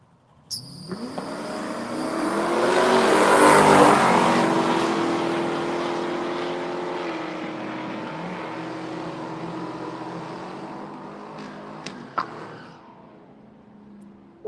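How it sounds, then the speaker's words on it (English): A '55 Chevy and a Camaro launching side by side down a drag strip, a loud roaring surge that peaks early then fades as the cars pull away, ending with a few sharp distant pops. "We got a 55 Chevy in the far lane, and we got a Camaro in the near lane."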